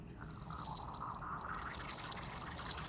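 Liquid flushed through a Cummins diesel fuel injector nozzle, a faint steady hiss and trickle with light dripping throughout, close and continuous.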